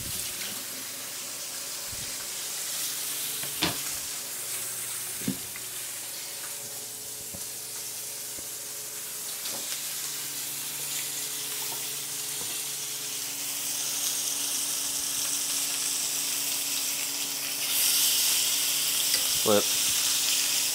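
Venison steak with smashed garlic sizzles steadily in a frying pan, a continuous broadband hiss that holds through the whole stretch and grows a bit louder near the end, with a few faint clicks and brief background sounds.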